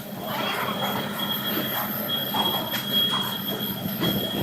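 The Panchaganga Express pulls out of a station, a steady rumble of rolling wagons with squealing wheels and a faint high whine, heard nearby without speech.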